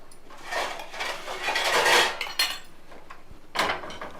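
A bowl and a plate are handled in a home kitchen, with close, loud bursts of ceramic and metal clattering and clinking in a few uneven clusters and a final knock, with no talk.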